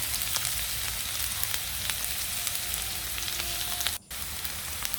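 Onions sautéing in a pan, a continuous close sizzle with light crackles and small pops, briefly interrupted near the end, with no speech.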